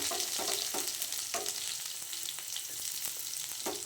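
Curry leaves and onion frying in a pan give a constant crackling sizzle with scattered pops and scraping stirs, close up and fairly quiet, without speech.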